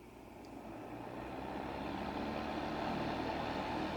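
A steady whooshing drone of a Calore electric space heater fan runs close by, gradually swelling a little louder and then holding constant.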